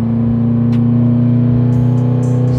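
A Chevrolet Impala with an LSX 454 V8 runs loaded on a dyno in second gear, holding a loud, steady droning rumble with strong even engine tones and no break.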